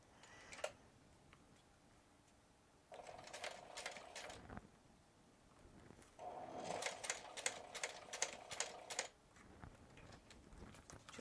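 A sewing machine topstitches across a fabric bag in two bursts of rapid, even clicking stitches separated by a brief pause, close and clear against a quiet room.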